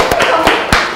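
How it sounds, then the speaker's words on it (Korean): Applause from a lecture audience in a classroom after a rock-paper-scissors final, with several sharp, close hand claps spaced through a brief burst over a background of room noise. "박수!"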